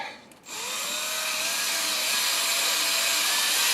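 A corded Makita half-inch drill on low range spins up after a brief pause and whines steadily as it primes the oil pump of a 1988 Jeep XJ 4.0 engine, the tone rising slightly under load.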